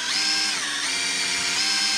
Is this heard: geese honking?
no